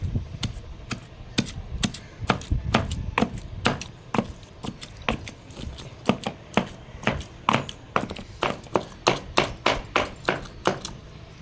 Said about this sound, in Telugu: పచ్చడి అయితే చక్కగా రుబ్బేసుకున్నాం కదా.